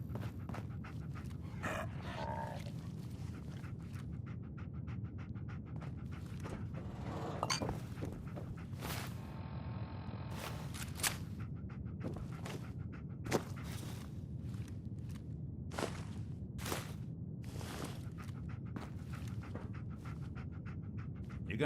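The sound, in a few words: dog Dogmeat panting in Fallout 4 video game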